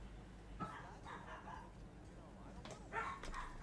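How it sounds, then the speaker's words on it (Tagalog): Several dogs bark and yip from inside a home at someone outside, a bit distant and faint, with the barks coming in loose bursts and people talking over them. "Gulo-gulo na mga aso ko. May tao kasi sa labas."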